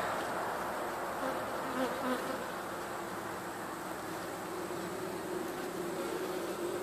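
Bees buzzing around two barrel top bar hives during a summer inspection, a steady dense drone that holds close and even throughout with no talk.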